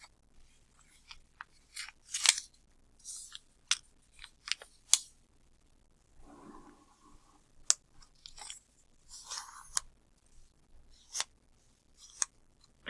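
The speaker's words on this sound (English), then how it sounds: "I'm going to take this edge and fold it so it touches right here." Sheet of paper being folded into a paper airplane, with close, crisp creases, crinkles and sharp scraping swipes in irregular bursts against a quiet background.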